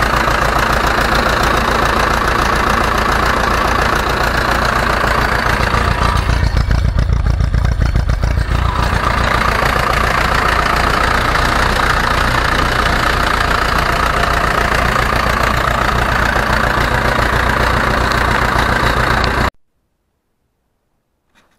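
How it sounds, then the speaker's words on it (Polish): An Ursus C-360 tractor engine, well tuned and running on a weak battery, runs steadily with a loud, close, rough chugging for about nineteen seconds, then cuts off abruptly into silence. "Zobaczcie, jak dobrze wyregulowany, skoro na tak słabym akumulatorze"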